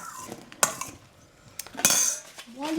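A spoon clinks against a bowl as strawberries are stirred in cream, with a few sharp metallic taps and soft scraping between them, close and moderately loud with no talk.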